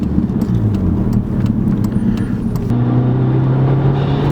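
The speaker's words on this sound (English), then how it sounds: "You can really hear that turbo spool up" A 2005 Volkswagen GTI with a turbocharged engine and straight-pipe exhaust drones loudly and steadily while driving, with a faint high whine riding over the low rumble.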